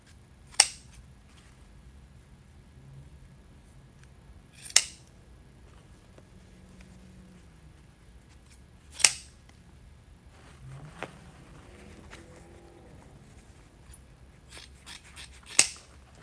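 Scissors trim greenery for a Christmas wreath in a few sharp, isolated snips spaced several seconds apart in a quiet room, ending in a quick cluster of cuts.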